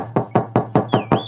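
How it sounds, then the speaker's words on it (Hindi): A wolf raps on the door of a goat's house, six evenly spaced knocks landing loud and close in quick succession, with a faint whistle-like tone rising behind the last two. "फिर से बकरी के घर का दरवाजा खटखटाने लगता है"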